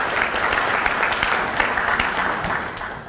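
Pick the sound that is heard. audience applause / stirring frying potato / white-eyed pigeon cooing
audience applause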